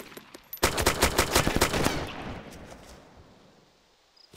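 A close, rapid burst of automatic gunfire in the survival game DayZ, a dozen or so loud sharp cracks in quick succession that ring out and fade into a long echoing tail, with a round striking nearby.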